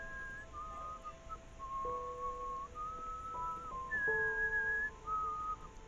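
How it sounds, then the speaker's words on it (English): A character in the video game Enderal whistles a wandering tune, clear, steady, and close, with soft background ambience and no speech over it. "I like how he's whistling without moving his mouth"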